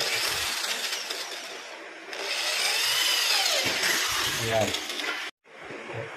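A power drill bores a screw hole for a sliding door rail track, whirring steadily and loudly up close with a brief cut-off near the end, while someone speaks over it.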